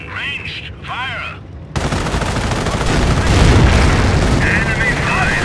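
Dense gunfire and machine-gun bursts from a Company of Heroes battle at Arnhem bridge during Operation Market Garden, a sustained loud barrage after a brief stretch of radio-style voices, with more voice chatter near the end.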